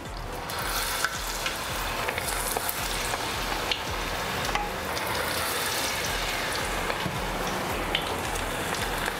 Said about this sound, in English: the main reason why we are frying them batch by batch and not overcrowding